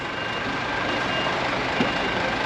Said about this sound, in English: the grab lorry is here taking the last of the gear away